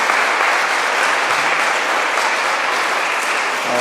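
A church congregation in Paris applauds its Sunday school teachers on Children's Sunday. Steady, full applause from the whole room holds evenly throughout, with no talking over it.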